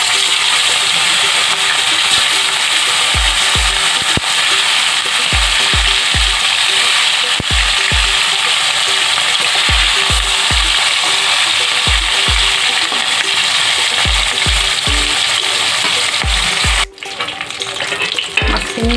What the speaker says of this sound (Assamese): এইফালে কেৰাহী এখন উঠাই দিছোঁ, তাতে সৰিয়হ তেল দি দিছোঁ। এতিয়া মাছখিনি দি ভাজি ল'ম।